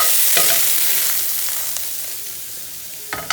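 Köfte meatballs fry briefly in oil in a pan, a steady bright sizzle with a few sharp spatters and pops, heard close up with no talking.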